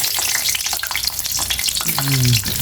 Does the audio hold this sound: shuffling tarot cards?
no